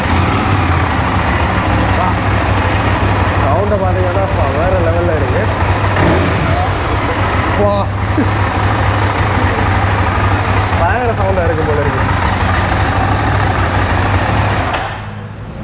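A Triumph Rocket 3R motorcycle idles with no silencer fitted, loud and rough with a raw, unmuffled rumble, revving briefly a few times, while someone talks over it.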